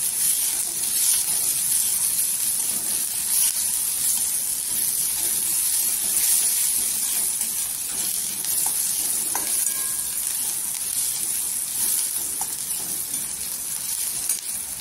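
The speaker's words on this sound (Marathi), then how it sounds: "तर आपण कांदा तेलावर परतू परत।" Chopped onion sautés in hot oil for a spicy Marathi onion chutney, with a steady bright sizzle that runs continuously and close by, and occasional light clinks from a utensil.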